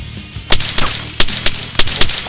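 Loud gunshots in a video game ring out as about six sharp, evenly spaced blasts in just over two seconds, close and punchy over a low rumbling game background, with no talking.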